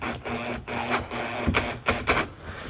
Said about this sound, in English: we can go ahead and start screwing off on this edge